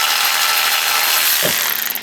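A ratchet works a drain plug loose under a 2021 Honda Ridgeline during an oil service, heard as one brief clicking burst near the end against a steady broadband hiss.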